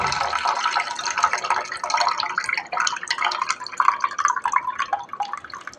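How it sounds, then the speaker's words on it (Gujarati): Water from chilled milk cream drains off in a steady, close trickle of drips and small splashes, continuous throughout with no talking. "આનું બધું પાણી નીકાળી દેવાનું."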